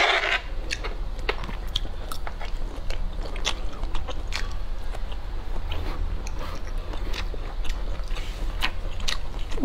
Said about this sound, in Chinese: 我吃这个辣的。